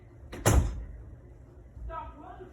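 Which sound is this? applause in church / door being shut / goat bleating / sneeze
door being shut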